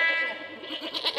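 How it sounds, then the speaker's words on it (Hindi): A single goat bleat, a short wavering cry that rises and falls over about a second, heard in the middle of an Urdu children's poem. "बकरा बोले"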